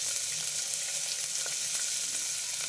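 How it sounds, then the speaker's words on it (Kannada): Onion, beans, carrot and green chilli fry in a pan with a steady, close hiss and crackle that holds evenly throughout, with no voices. "ಇದೆಲ್ಲ ಹಾಕ್ಕೊಂಡು ಚೆನ್ನಾಗಿ ಹುರಿಬೇಕು. ಎಲ್ಲ ಚೆನ್ನಾಗಿ ಫ್ರೈ ಆಗಬೇಕು."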